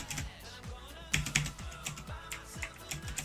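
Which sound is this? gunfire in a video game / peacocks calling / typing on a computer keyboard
typing on a computer keyboard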